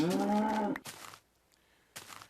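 A cow in the video game Minecraft gives one low, drawn-out moo up close, followed by a few brief soft noises and a quiet gap.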